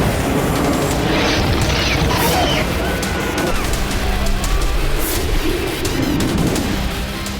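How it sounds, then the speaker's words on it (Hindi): Heavy 2000 kg bombs dropped by an air force explode over Lebanese towns, giving a continuous loud rumble of booms and blasts with no quiet gaps, and faint voices partly buried in the din. "दो 2000 किलो के बम से जो विस्फोट हो रहे हैं"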